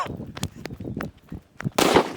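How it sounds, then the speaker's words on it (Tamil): A string of sharp firecracker pops and crackles, ending in a louder, longer hissing burst as a firecracker explodes inside a pressure cooker. "அறுநூத்தம்பது ரூபா குக்கர் ஒரு பிஜிலி வெடிக்கு தாங்களேங்க"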